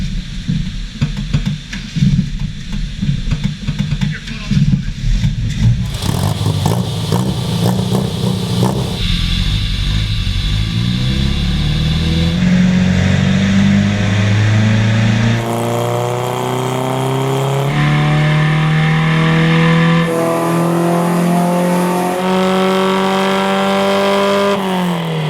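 A 1968 Datsun with a 1.6 liter four-cylinder engine rated at 96 horsepower revs on a dyno, the loud close engine note climbing steadily in pitch through successive gears over a long pull.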